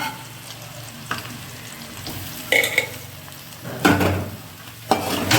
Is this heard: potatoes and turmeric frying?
yes